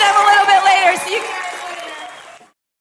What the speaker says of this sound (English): Let's give them a big round of applause, everybody.